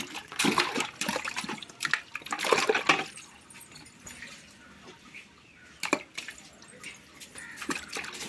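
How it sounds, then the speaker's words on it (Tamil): Tapioca roots are dropped and scrubbed in water, making bursts of splashing and sloshing with quieter trickling pauses between them, fairly close by. "ஒவ்வொன்றா எடுத்து நம்ம தண்ணியில் போட்டு நம்ம எதாவது வாஷ் பண்ணிக்கலாம்"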